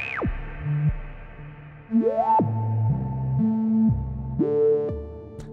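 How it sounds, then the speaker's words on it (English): Synthesizers.com modular synthesizer oscillator run through a bandpass filter, a sequence of hollow, hooting tones with sliding pitch sweeps and stepped notes, steady and close with no voices. "And the middle one sounds like this, which is like a bandpass filter."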